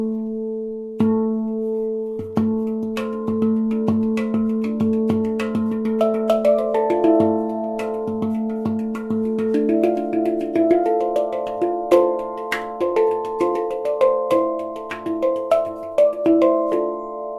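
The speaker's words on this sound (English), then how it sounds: "here's an example of an instrument that has a really strong center note" A handpan rings out alone, its strong center note punchy and resonant while lighter side notes follow in a flowing melodic pattern, close and clear with long sustain.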